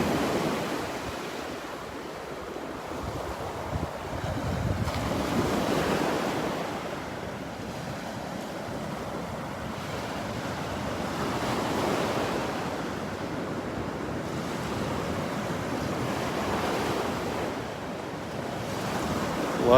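Surf rolling onto Vanderbilt Beach in North Naples, Florida, soft waves breaking and washing in repeated swells every few seconds, with light wind buffeting the microphone; moderately quiet and continuous, no talking.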